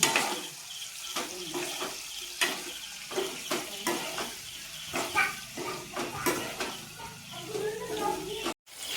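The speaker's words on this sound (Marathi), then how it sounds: "हे थोडं फ्राय करून घ्यायचं आहे, जास्त आपल्याला शिजवून घ्यायचं नाही।" Paneer fries in a pan for a crispy hotel-style starter, making a continuous sizzle with repeated scraping and stirring strokes, close and moderately loud, under a voice talking throughout.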